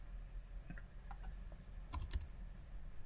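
Typing on a computer keyboard while working in design software: a few sparse, light key clicks spread out, then a quick cluster of sharper taps near the end over quiet room hiss.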